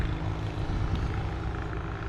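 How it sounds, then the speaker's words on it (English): Steady engine drone of motorcycles rolling past on a windy mountain road with hairpin bends, a continuous low rumble without any voices. "Some motorcycles going by us."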